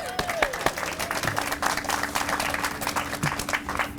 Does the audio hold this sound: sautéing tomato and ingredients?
no